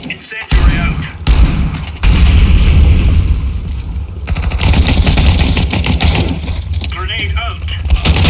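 A grenade going off in the Counter-Strike 2 video game: loud booming blasts with heavy low-end rumble, sustained dense gunfire-like bursts and crackle filling the whole stretch, with voice-like chatter mixed in.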